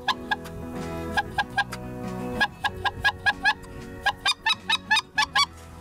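A brass wind caller imitates geese during a goose hunt on the Arkhangelsk marshes, giving a rapid string of short, honking clucks in uneven bursts, fairly close and clear with no talking.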